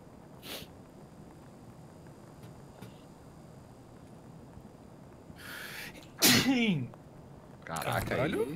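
A few sharp human sneezes burst out: one faint early on, then two loud, close ones near the end over a quiet background.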